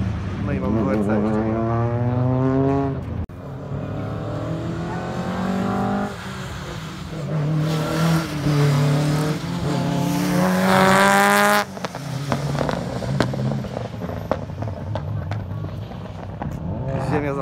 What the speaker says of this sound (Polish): Trzęsła się od dźwięku bokserów